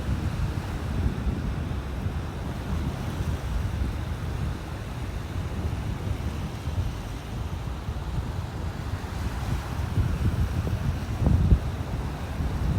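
Wind buffets a handheld camera on a beach walk in North Naples, Florida, with steady low rumbling gusts and surf, continuous and loud throughout with a brief thump near the end.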